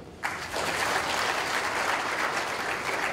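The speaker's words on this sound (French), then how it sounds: "qu'il mérite des applaudissements" An audience in a university lecture hall claps during an academic opening ceremony, with the applause starting abruptly and continuing as an even, dense wash of clapping.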